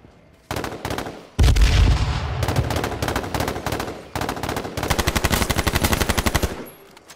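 Rapid automatic gunfire in a video game, bursts of sharp rattling shots separated by brief gaps, loud and close, with one heavier impact near the start as rounds strike a player's helmet.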